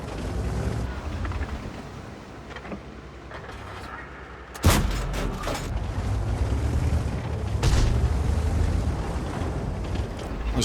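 A tank gun firing at an enemy tank in a tier VIII medium tank battle game: a sudden heavy boom cuts into a rumbling engine and wind bed, followed later by a second weaker blast.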